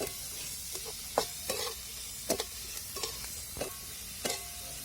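Onions fry in oil in a thin kadhai for dal kanda, a soft steady sizzle punctuated by sharp clinks and scrapes of a spatula stirring at irregular intervals, close by and without talk.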